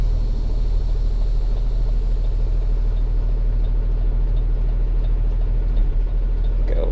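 A tow truck with a wheel lift reverses straight back, its engine a steady, loud low rumble close by that holds throughout, with no voices.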